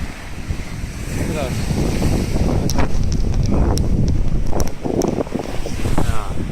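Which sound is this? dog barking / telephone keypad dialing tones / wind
wind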